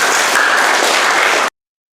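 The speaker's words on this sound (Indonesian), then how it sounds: "Tepuk tangan." A crowd at an outdoor military gathering in a village breaks into loud, dense applause that fills the clip and then cuts off abruptly.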